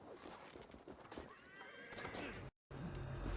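A horse whinnies loudly over clattering hooves and busy background noise in the video game Assassin's Creed Valhalla, with a brief dropout near the end.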